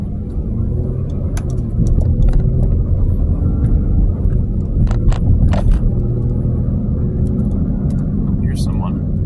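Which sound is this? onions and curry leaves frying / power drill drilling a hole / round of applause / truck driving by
truck driving by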